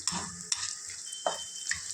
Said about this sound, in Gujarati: હવે જે આપણા વટાણા છે એ નાખી દેશું એટલે ડુંગળી જોડે આપણા વટાણા બરાબર